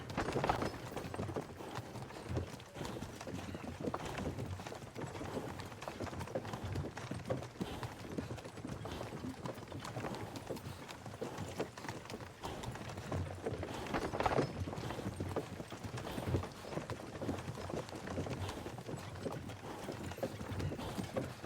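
Horse hooves clip-clopping at a steady walking rhythm while pulling a cart in the medieval video game Kingdom Come: Deliverance 2, with a low rolling rumble and creaks beneath, continuous and fairly close.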